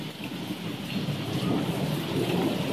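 An East Central Indiana thunderstorm: steady rain pours down under continuous low rolling thunder, a constant rumble that swells slightly without a break.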